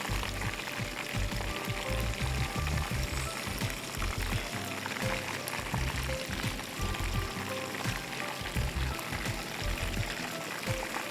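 Chicken wings frying in a single layer in a pan, a continuous bubbling crackle with busy popping throughout, steady and fairly close, no talk over it.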